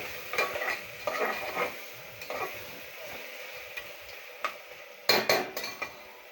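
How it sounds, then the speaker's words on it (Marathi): A spatula stirs garlic-ginger paste around a hot pan, with intermittent scrapes and light metal clinks over a soft sizzle and a brief cluster of sharper knocks near the end. "याला चांगलं परतून घ्यायचंय।"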